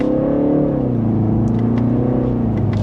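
A 2026 BMW 330i accelerates back up to speed, its engine drone rising and falling in pitch over a steady road rumble heard from inside the cabin, loud and continuous with no talking.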